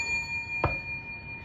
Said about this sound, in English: That's a call me bell. Call on me bell, not a school bell.